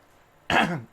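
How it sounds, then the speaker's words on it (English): A single short, polite throat-clearing cough in the video game Watch Dogs: Legion, close and fairly loud, following near silence. "It'll take at least a polite cough and an excuse me."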